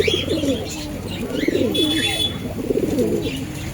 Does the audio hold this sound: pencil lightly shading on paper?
no